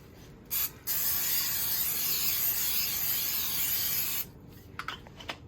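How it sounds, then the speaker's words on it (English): A short spritz followed by a long, steady hiss of an aerosol can of cooking spray coating a baking pan close by, then a few light clicks and taps. "I'm gonna spray my pan"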